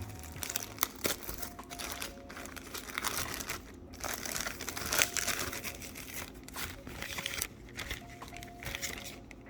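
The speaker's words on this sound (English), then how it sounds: "let's remove the plastic so we can get a closer look at this piece of equipment here" Plastic wrapping crinkles and tears steadily up close as it comes off a VRS Direct Drive Pro sim-racing wheel system during unboxing, a continuous rustle with a few louder crackles.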